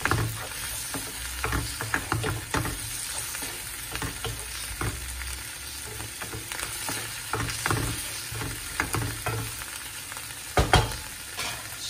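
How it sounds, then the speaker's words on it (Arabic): Mushrooms fry in a pan while briouates with white fish are being prepared, producing a constant close sizzle punctuated by crackles and stirring scrapes, loud and alone without speech. "ملي كيتقلى بحال هكا الشامبينيون كيجي بنين"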